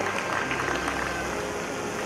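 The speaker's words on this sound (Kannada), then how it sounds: "ದಯವಿಟ್ಟು ಒಂದ್ಸತಿ ಜೋರಾದ ಚಪ್ಪಾಳೆ ನಮ್ಮ ಯಶಸ್ವಿ ವಿದ್ಯಾಕೇಂದ್ರಕ್ಕೆ ಬರಲಿ" A school audience claps for their education centre at a comedy event, a short, dense burst of crowd applause that stays even throughout.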